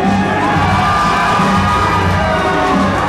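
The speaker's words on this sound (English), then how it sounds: "You can hear the audience. They love them. They are erupting." An arena crowd cheers and yells continuously as a wrestling tag team makes its entrance down the aisle, a loud, dense roar of voices with whoops sustained throughout.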